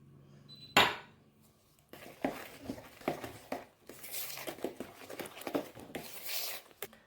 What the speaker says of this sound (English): So now I'm adding the last of my milk, and I'm going to mix this in